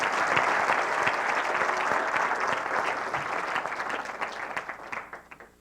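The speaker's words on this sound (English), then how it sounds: "Please add an applause for Andrew." A lecture audience applauds a university speaker with dense, sustained clapping that holds steady and then thins out and fades near the end.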